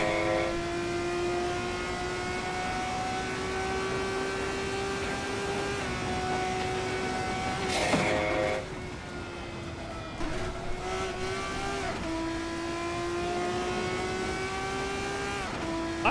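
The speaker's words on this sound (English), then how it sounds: "I don't mind this engine." A car engine in the Assetto Corsa racing game drones steadily, with a brief shift in pitch midway like a gear change before settling back into a constant close tone. No voices.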